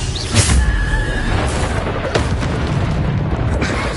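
Booming spell blasts from Hogwarts Legacy, Bombarda explosions going off amid a chaotic fight, with a strong thump just after the start and smaller bursts trailing off over a rumbling background.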